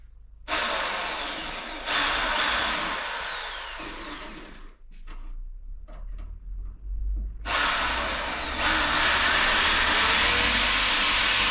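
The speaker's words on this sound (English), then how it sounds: "I'm going to drill the holes in it for the headlight wash wipe" A power drill whines loudly in short bursts, drilling holes in a Mk3 Vauxhall Cavalier bumper for a headlight washer, its pitch climbing as it bites in, with clunky handling noises between the bursts.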